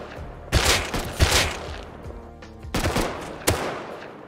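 Gunfire in the survival game Rust: several loud bursts of rapid shots with short gaps between them, some sharp single cracks standing out, close and alone without talking.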